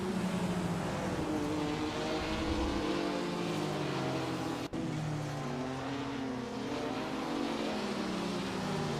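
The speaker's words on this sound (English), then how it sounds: "So, the trucks make their way through." NASCAR trucks race in the Assetto Corsa video game, a continuous droning roar of several engines with pitch rising and falling as they pass, steady and loud throughout.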